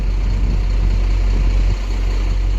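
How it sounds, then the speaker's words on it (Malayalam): A truck pulls up at a highway construction site to collect a load of material, its engine a steady low rumble close by that drops slightly in level near the end. "ലോഡ് കയറ്റാനായിട്ട് ഇതാ സൈറ്റിൽ നിന്ന് വണ്ടി വന്നിട്ടുണ്ട്."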